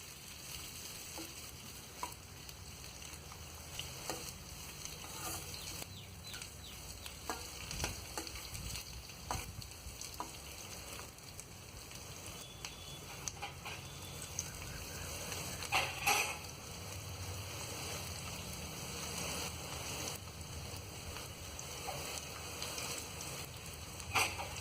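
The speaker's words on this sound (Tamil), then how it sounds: "வெங்காயம், பச்சை மிளகாய் வதக்குங்க" Onions and green chilies sauté in a pan for a bitter gourd gravy, giving a steady, close frying sizzle with scattered scraping and stirring clicks throughout, no voices.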